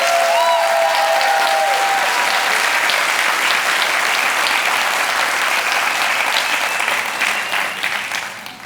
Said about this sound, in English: let's give a round of applause to these ladies